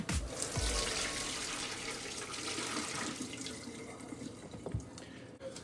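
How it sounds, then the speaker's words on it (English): Hot water from cooked pea noodles pours and splashes steadily into a sink, a continuous rushing stream with a few louder splashes, close and with no talking. "Drain the water piece noodles."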